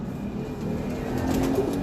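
A flock of kept pigeons in Kasur coos in a soft, continuous low burble that swells slightly toward the end, with no one speaking.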